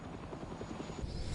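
A helicopter's rapid rotor thumping chops steadily over a broad rumble, growing slightly louder toward the end, from an emergency water-drop run over a damaged nuclear power plant in Japan after the earthquake and tsunami.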